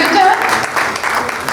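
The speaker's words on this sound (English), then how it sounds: "a special round of applause for Mr. Shehercha Mirza for coming all the way from Calcutta" Clapping from a crowd at a book launch during a literature festival in Lucknow, honoring a guest; a short burst of continuous applause that fills the brief moment.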